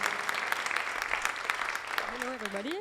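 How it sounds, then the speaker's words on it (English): Audience applause at a branding talk: a steady burst of many people clapping, fairly close, before a voice starts speaking near the end. "applause for me"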